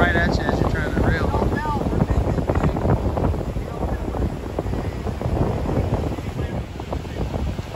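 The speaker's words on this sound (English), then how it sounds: "This wind will beat you down too" Strong wind buffets the microphone on a fishing boat out on the ocean during a blacktip shark catch-and-release, a loud, constant roaring gust noise filling the whole stretch, with voices mixed in underneath.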